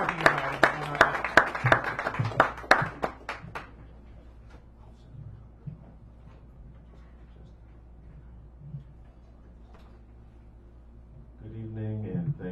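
Audience members at a San Francisco cafe poetry reading clap for a poet coming forward, a brief burst of close, brisk applause that fades into quiet room noise before a voice begins speaking.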